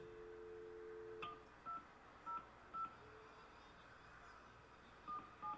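Telephone dialing tones sound as a series of short, separate keypad beeps, faint and spaced irregularly over a low background hum.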